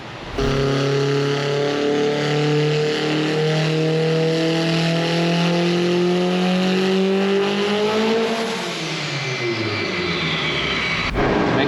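A Haltech drag car engine on a dyno at full boost, loud and close, holds a steady high rev that climbs slowly, then drops away sharply and winds down before a final cut.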